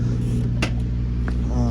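Steady low engine drone from a 1971 Chevrolet Camaro on the road, heard from inside the car with continuous hum and a couple of brief faint clicks, no talking.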